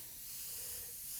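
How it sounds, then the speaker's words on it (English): Steady airbrush hiss of paint spraying as a fine mist onto fantasy artwork, a continuous soft broadband spray, close and quiet with no talk. "So be careful with the distance and the amount of paint you're spraying"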